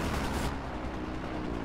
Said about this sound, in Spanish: Vale, por aquí están habiendo tiros.